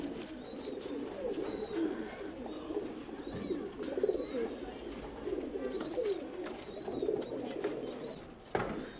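Tumbler pigeons coo steadily in a loft, the soft low calls overlapping and continuing throughout, with a few faint higher chirps and chatter in the background.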